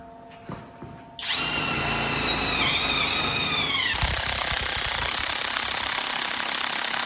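A power drill bores a hole for an RTK base station dome, starting after a brief quiet moment with a loud, steady whine. The pitch shifts partway through as the bit works, and the drilling continues without pause to the end.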